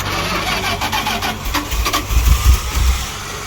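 A 1970s Dodge street van engine cranks and rumbles unevenly, with low throbbing pulses swelling toward the end as it tries to catch, heard up close and fairly loud.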